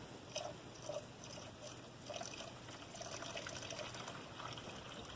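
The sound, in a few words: antifreeze being poured into a GM 3.8 liter engine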